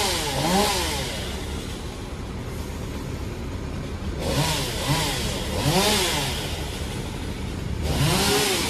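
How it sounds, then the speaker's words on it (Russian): A chainsaw trims a tree beside a San Francisco street, its engine rising and falling in repeated revving bursts over steady traffic noise. "Так, дерево подстригают."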